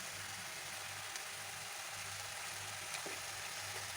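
Spices sizzle in a pan with boiled jackfruit and potatoes, a steady soft frying hiss with faint stirring clicks and a low background hum throughout.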